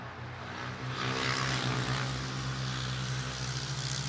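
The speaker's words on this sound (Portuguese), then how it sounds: "Nossa, que moto barulhenta." A noisy motorcycle passes near a wooded park with birds. Its engine is a steady low drone that swells in the middle and then holds, moderately faint.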